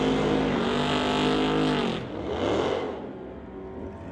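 A Fox Body Mustang launches off the line at a street legal drag race, its engine revving loud and close before the roar eases as the car pulls away.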